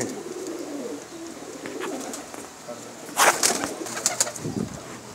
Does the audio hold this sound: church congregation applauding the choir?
no